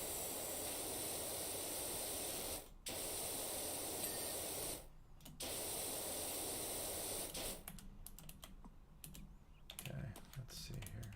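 A pressure washer in Power Washing Simulator sprays in a steady, even hiss that cuts off twice briefly, then breaks into short stuttering bursts near the end.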